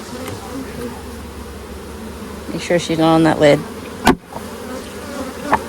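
Honeybees buzzing around a hive box as it is shaken during an inspection and requeening, a steady close swarm drone with a louder surge midway, a sharp knock, and a person talking briefly.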